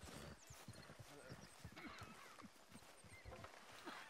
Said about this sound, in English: get that horse out of here